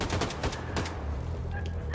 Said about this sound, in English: Oh, we are gonna use a gun now.